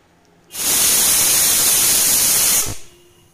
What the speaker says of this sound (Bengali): দিয়ে 3 থেকে 4টে সিটি দিয়ে দেব